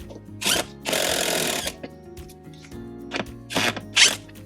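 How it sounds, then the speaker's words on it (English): An impact driver drives screws in several short, loud bursts close by, with one longer run and brief pauses between them, set against a low steady background. "I will use an impact just because it makes it a little bit easier to drive these more quickly"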